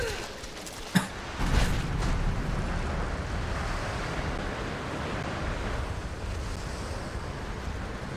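Steady wind blows through a Tomb Raider game scene, a broad rushing whoosh that swells after a short knock and holds at a moderate, even level.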